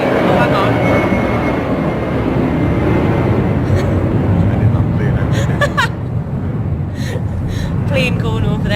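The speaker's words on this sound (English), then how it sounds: "Plane going over there because we're right next to the city airport at the moment." A plane passes over near a city airport, a loud, steady broadband roar that fills the whole stretch with faint vocal sounds mixed in.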